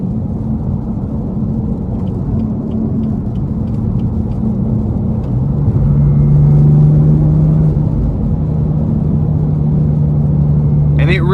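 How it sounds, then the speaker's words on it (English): Steady low exhaust drone from a 2018 BMW M4 Competition heard from inside while driving, a continuous rumble that swells into a stronger, louder tone midway and holds, with no talk over it. "that exhaust drone just does not get old"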